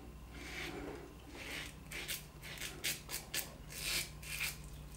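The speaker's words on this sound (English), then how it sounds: "You can hear the blade cutting" A Baby Futur safety razor scrapes across stubble during a wet shave, with close, quiet raspy strokes in uneven bursts against faint background noise.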